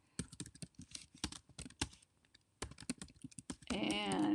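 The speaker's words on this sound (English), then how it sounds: "So in the meantime, let me just type in here." Computer keyboard typing, a close run of crisp irregular key taps with short pauses, followed by a louder tonal sound at the end.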